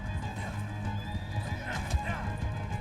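In a video game, a horse whinnies and its hooves clip-clop in a quick galloping rhythm, fairly close and moderately loud, with game sounds and voices mixed in.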